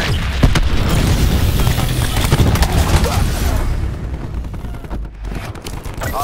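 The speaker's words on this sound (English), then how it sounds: "Enemy cluster grenade." Dense, loud explosions and gunfire fill a Call of Duty: Black Ops 4 hardpoint match as a cluster grenade goes off, rolling booms layered with rapid shots in a continuous barrage that eases slightly near the end.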